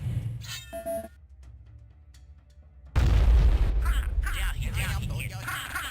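A nuclear weapon detonates in the video game Shadow Warrior, erupting suddenly into a loud, sustained roaring boom that rumbles on for several seconds after quieter game sounds.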